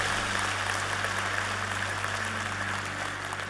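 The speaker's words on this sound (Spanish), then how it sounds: "dale un aplauso al Rey en nombre de Jesús" A church congregation applauds during a worship service, a steady, even wash of many hands clapping under a constant electrical hum, with no talking.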